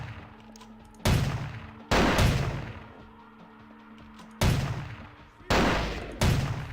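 Gunshots from a weapon in Vampire the Masquerade: Bloodlines: five sharp, loud single shots at uneven intervals, each followed by a decaying tail, over a quiet hum of game ambience.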